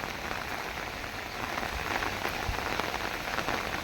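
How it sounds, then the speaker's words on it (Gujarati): Steady rain pattering on a hard surface, dense and continuous, with a faint rush of light wind beneath; no voices. "થોડો થોડો પવન છે અને વરસાદ છે"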